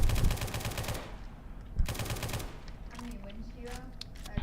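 Gunfire in a video game aimed at riot zombies: rapid bursts of automatic fire in two loud volleys, with a voice talking over the shooting.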